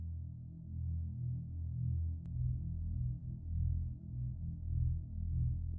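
A deep, low rumbling drone of space ambience layered with a pitched-down copy of itself swells and fades in slow pulses, with a faint steady tone above and one sharp click.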